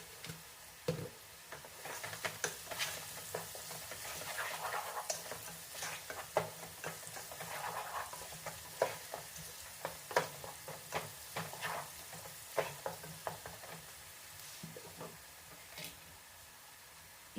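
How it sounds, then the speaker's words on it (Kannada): Onions frying with salt in a pan give a quiet, steady sizzle with frequent small ticks and scrapes from stirring throughout, heard close up without voices. "ನಾನೀಗ ಇದಕ್ಕೆ ಸ್ವಲ್ಪ ಉಪ್ಪು ಹಾಕ್ತಾ ಇದ್ದೀನಿ, ಈರುಳ್ಳಿ ಬೇಗ ಫ್ರೈ ಆಗಲಿ ಅನ್ನೋ ಕಾರಣಕ್ಕೆ."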